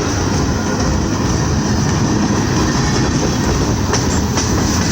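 A Norfolk Southern train rolls past on the rails, a loud, dense, unbroken roar of wheels and cars with faint clicks and a brief squeal, close by.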